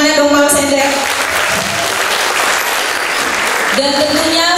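An audience at a children's health seminar breaks into loud, dense applause that holds steady for several seconds, with a voice talking over the clapping at the start and again at the end.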